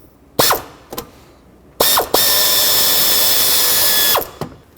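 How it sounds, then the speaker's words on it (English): A 10mm socket on a ratchet works the nut holding the transmission dipstick tube on a Chevrolet Express. A few short clicks lead into a loud, close, sustained mechanical whir that lasts about two seconds, then more brief clicks. "Drop a 10mm socket on there and then try to break it free."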